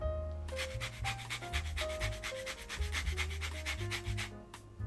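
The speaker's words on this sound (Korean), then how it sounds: "이렇게 오렌지 제스트 갈아 넣어줬고요" The zest of a washed orange is grated for pound cake batter, making rhythmic close rasping strokes in a quick regular series, with a faint tonal background hum.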